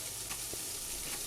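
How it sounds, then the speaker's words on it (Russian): Chopped celery and the white part of leek sautéing in oil in a pan over low heat, a steady close sizzle filling the whole moment with no voices. "Обжариваем, пассируем на небольшом огне до мягкости."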